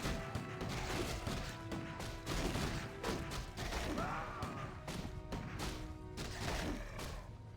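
Rifleman units shooting in a Warcraft 3 pro match: a busy fusillade of cracking rifle shots and impacts mixed with other battle clatter, steady and dense throughout, moderately quiet.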